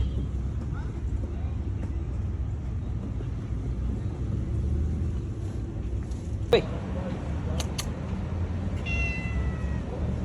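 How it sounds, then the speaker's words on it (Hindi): Outdoors in Dubai, a cat gives a short meow and then a few thin cries over a constant low traffic rumble, with a sharp knock just before the meow. "दुबई की बिल्ली ने भी लिफ्ट कराई दी है"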